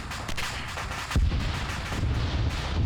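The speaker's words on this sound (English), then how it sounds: "that was a danger close bomb by air there" An air-dropped bomb exploding in a Vietnam-era combat video game, a heavy booming blast about a second in, followed by rolling rumble and scattered distant gunfire.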